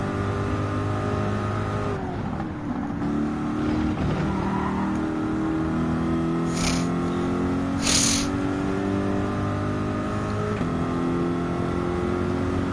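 Group 4 race cars, an Alfa Romeo 4C among them, in Gran Turismo 7 scream through a sustained engine chorus, with several revving tones rising and falling in pitch as gears shift and cars pass, loud and continuous.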